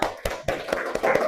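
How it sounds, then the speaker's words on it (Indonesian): A class claps hands in a short, uneven burst of a few distinct claps, close and fairly loud. "Oke, tepuk tangan untuk kita semua."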